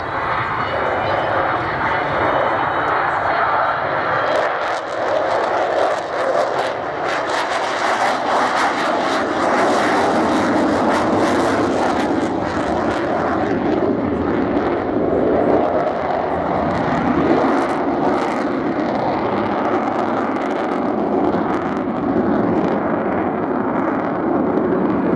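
Avro Vulcan bomber roaring through a flying display at Cosford, a loud, continuous jet engine thunder with rumbling low end and shifting tone as the delta-wing aircraft passes, filling the whole stretch without letup.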